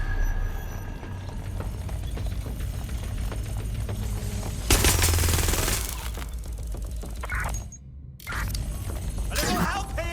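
Gunfire in the video game Watch Dogs: Legion, bursts of shots in a dense mix with game effects and character speech, the loudest burst in the middle, then a short drop to near silence and a return of noise.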